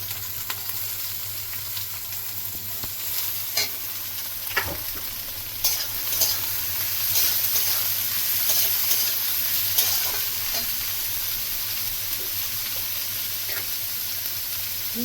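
Carrot, capsicum and beans stir-fried together for veg chowmein, a steady close sizzle with scraping stirs and occasional clinks throughout, no talk.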